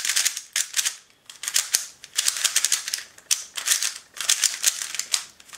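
A MoYu Weilong GTS3M speed cube turned by hand, bursts of sharp, rapid plastic clicking and rattling, close and loud, coming in quick flurries separated by short pauses.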